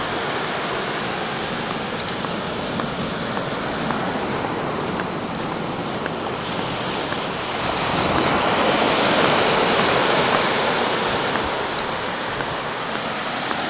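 Ocean waves wash in at the water's edge on a beach at Port Orford, Oregon, in a steady, loud roar of surf that swells briefly midway, with some wind noise and no voices.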